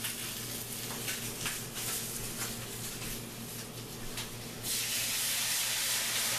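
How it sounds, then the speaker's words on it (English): Water poured into a hot frying pan of browning sausage sets off a loud, steady hiss of steam and sizzle that keeps going, then grows brighter and harsher near the end, with no voices. "now I'm going to add water in the frying pan, and we'll continue cooking the sausage by steam."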